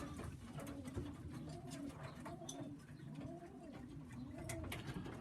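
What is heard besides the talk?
young Sheffield pigeons cooing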